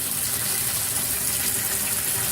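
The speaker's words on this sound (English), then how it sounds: "the first thing I want to do is turn on the tub" Water gushes steadily from a bathtub faucet into the tub, a constant close hissing rush that stays even throughout with no voices.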